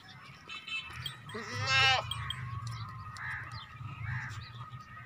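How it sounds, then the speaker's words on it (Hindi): Goat bleats loudly once, close by, then gives softer shorter calls over a low background hum at a livestock market. "ये बकरी है भाई।"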